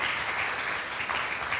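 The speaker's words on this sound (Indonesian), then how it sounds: "Berikan tepuk tangan yang meriah bagi Tuhan" Applause fills a church Christmas service, a steady wash of clapping from the congregation held at an even, moderate level throughout without any voices.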